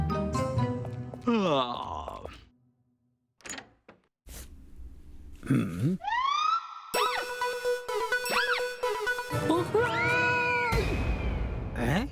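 Several loud cartoon cat meows rise and fall in pitch, mixed with other sharp sound effects and brief pauses of silence, from an animated kids' show.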